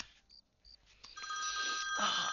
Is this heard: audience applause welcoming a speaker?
no